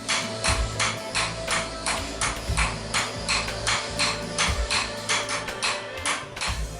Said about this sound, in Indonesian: Suara palu terdengar nyaring saat beradu dengan besi bahan pembuat cangkul.